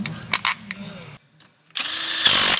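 A power tool drives bolts into a B20 VTEC turbo engine with short whirring bursts, then a pause, then a longer loud drilling run close by.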